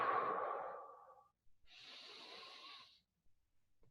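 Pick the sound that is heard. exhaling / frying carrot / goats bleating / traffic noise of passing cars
exhaling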